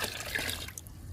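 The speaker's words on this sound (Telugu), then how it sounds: "ఇది దానిమ్మ తొక్కల లిక్విడ్. ఇది కూడా 4 మొగ్గులు పోసుకుందాము." Pomegranate peel liquid poured steadily for about a second, a close, soft trickling splash with no voices.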